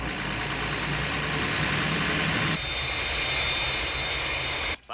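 Fireflash, the atomic-powered airliner from Thunderbirds, roars in on final approach to the runway, a loud, steady jet engine drone that drops sharply in low rumble midway before cutting off abruptly at the end.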